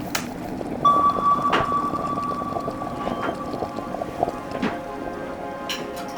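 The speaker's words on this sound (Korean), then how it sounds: "지금 부산에는 비가 내리고 있습니다" Rain falling in Busan gives a steady hiss with scattered drips and taps, joined by a humming engine-like tone and occasional sharper knocks, with no voices.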